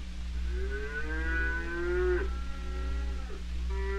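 Heifers and cows on a family dairy farm give several long, drawn-out moos, some overlapping, over a constant low electrical hum.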